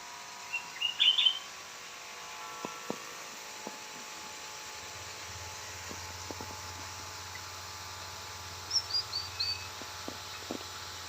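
Sooty-headed bulbuls chirp in a small aviary on a rainy, misty morning, two short bursts of bright twittering calls near the start and end, with scattered drips and a faint steady hiss between.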